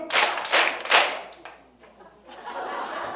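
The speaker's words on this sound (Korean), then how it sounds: "박수 세 번 시작!" An audience at a Korean healing talk concert answers a cue with a short burst of claps, a few quick rhythmic beats up close, followed by scattered chuckles and a quieter lull.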